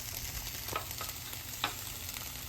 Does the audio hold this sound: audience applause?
no